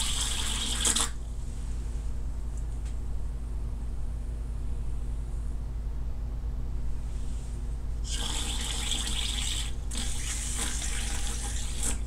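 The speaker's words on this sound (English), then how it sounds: "and just push the water out." Water is pushed out of an Air Pen Pro applicator tube during cleaning, giving a short hissing spurt at the start and a longer sputtering spray near the end over a steady low hum.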